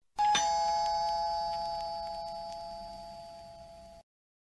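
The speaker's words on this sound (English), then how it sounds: "Someone rings the doorbell." A single doorbell chime rings out clearly indoors, its bright tone sustaining and slowly fading over a few seconds with no talking.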